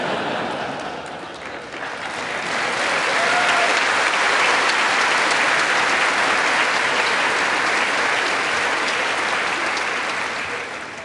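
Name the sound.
applause from members of the US Congress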